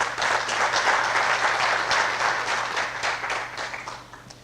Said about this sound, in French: Je vous demande de les applaudir tous.